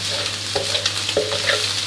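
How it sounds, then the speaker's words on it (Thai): A metal spatula scrapes stuck egg off a wok in a few short strokes over a low steady hum and soft sizzle. "ไข่ที่ติดกระทะอยู่ก็จะหลุดออกมาได้ง่ายนะครับ ขูดออกก็จะออก ขูดออกให้หมดก่อนเลยนะครับ"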